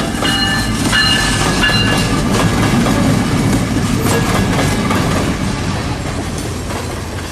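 A train rolling past in Florida, loud and close, with a continuous heavy rumble, clattering wheels and faint squeals over the whole stretch, easing slightly toward the end.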